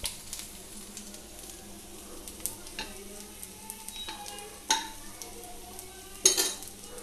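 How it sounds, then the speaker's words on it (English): Fish pieces sizzle steadily in a hot frying pan, with occasional sharp clinks and scrapes of a utensil stirring and turning them, close and clear with no talking. "I am frying the second round of the fish pieces."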